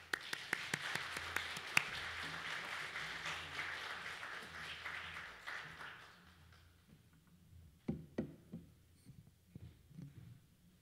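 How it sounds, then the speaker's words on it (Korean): Church congregation applauding to welcome a missionary at a worship service, a dense burst of clapping for about six seconds that thins into a few scattered claps and faint room noise. "우리 선교사님 나오실 때 우리 박수로 환영하겠습니다"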